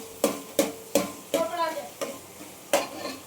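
Vegetable soup ingredients being stirred in a pan, a series of sharp scraping strokes about every half second, with a soft sizzle between them, fairly quiet and close.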